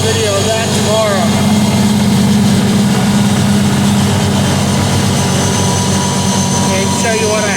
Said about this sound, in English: Put on my ATV and I got it hooked up and running.